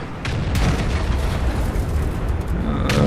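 Tank cannon fire from an E-75 heavy tank in a video game, with a dense, loud continuous rumble of booming battle noise and a few sharper bursts near the start and end.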